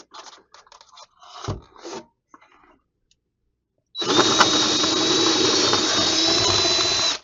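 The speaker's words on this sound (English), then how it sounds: "that's where I'm going to have to drill." A power drill bores a hole through a house wall while a mini-split head unit is being installed: a few scraping handling noises, a pause, then a loud steady whining drill run lasting several seconds, close by.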